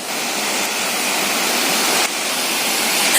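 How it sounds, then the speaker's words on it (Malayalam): Aruvikkachal waterfall roars nearby as a loud, dense, unbroken rush of falling water, steady throughout with no voices. "ഇപ്പൊ നമ്മള് വെള്ളച്ചാട്ടത്തിന്റെ ഏകദേശം അടുത്താണ്."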